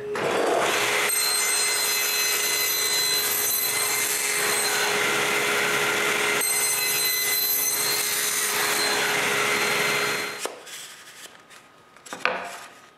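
A power tool with a jig cuts mortises in wood, whining and roaring steadily for about ten seconds close by, then spins down, followed by a few faint handling knocks.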